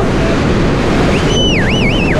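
A heavy stream of water rushes beneath a bridge, a loud, unbroken roar close by, with a brief high whistling tone rising and dipping near the end and no talk.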